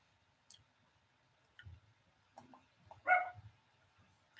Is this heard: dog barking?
yes